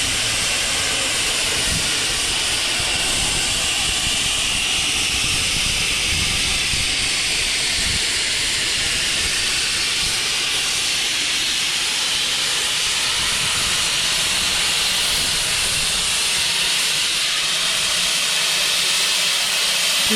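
A steam locomotive vents a loud, continuous hiss of steam at the Severn Valley Railway spring steam gala. The hiss stays close and steady for the whole stretch over a low rumble, with no talking.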